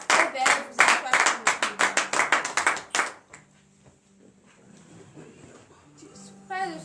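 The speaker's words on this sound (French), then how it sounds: "Donnez de vive acclamation à cette parole." A congregation at morning prayer claps in acclamation, a brisk burst of loud rhythmic hand claps for about three seconds that stops abruptly, leaving quiet murmurs behind.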